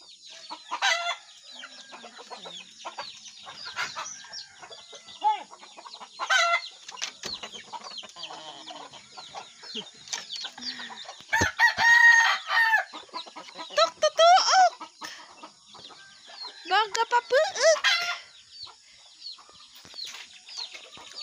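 Chickens clucking and a rooster crowing on a rural farm, with repeated bursts of calls spread through the stretch and one louder crow near the middle, fairly close and without talk.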